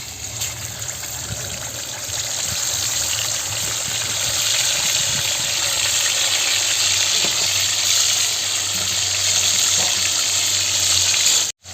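Ginger-garlic paste sizzles and fries steadily in hot oil with a bay leaf, a continuous close crackle with no talk, for a village-style dhaba chicken curry.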